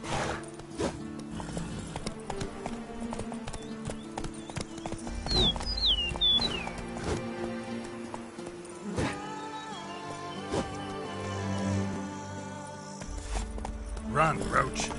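Horse hooves clip-clop steadily in The Witcher 3: Blood and Wine, with a couple of whinnies and a music score running underneath the rhythmic footfalls.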